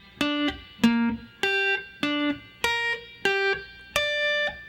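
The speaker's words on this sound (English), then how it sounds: "play a note, skip a note, go to the next note, go back to the skip note" Seven clean, evenly spaced electric guitar notes of a minor arpeggio ring out one after another in a steady broken-chord pattern, each sustaining briefly before the next.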